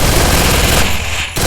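Rapid gunfire from the Free Fire video game crackles in a loud, dense burst that runs almost without a break, cutting out for a moment near the end before resuming.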